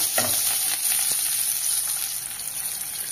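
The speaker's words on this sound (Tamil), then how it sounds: "வெங்காயம் நல்லா வதக்கிக்கோங்க." Small chopped onions sauté in hot oil, a dense, steady close sizzle with faint stirring scrapes near the start, running evenly without talk.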